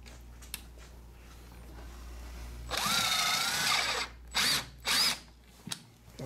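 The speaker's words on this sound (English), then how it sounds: "So put in one screw on each side. Drill it first." A power drill driving screws spins up in one long burst, followed by two short quick pulses of the trigger, close by.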